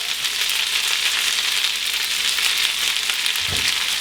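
Green beans drop into a hot pan with a steady, close sizzle that fills the clip, and a brief low thump near the end suggests them being tossed.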